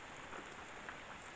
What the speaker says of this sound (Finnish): alkoi sataa niin kovaa